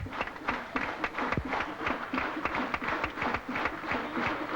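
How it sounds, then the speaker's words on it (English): England cricket players clapping on the field to mark a batsman's fifty in a 1982 Test match in Colombo, a steady run of scattered handclaps, moderately close, with light background noise. "England players applauding him."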